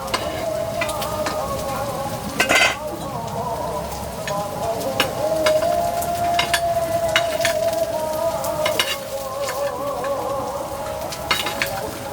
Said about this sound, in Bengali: আর বাকিগুলো আমি ভেজে নিয়ে আপনাদের দেখাচ্ছি